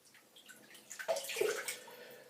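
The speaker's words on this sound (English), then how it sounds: "let me make sure my brush is wet" Tap water runs to wet a shaving brush, giving a quiet trickle and soft splashing that swells briefly in the middle before easing off.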